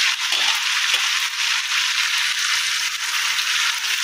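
Chicken pieces fry in a hot pan, giving a loud, steady, close-up sizzle and crackle of oil that continues evenly throughout.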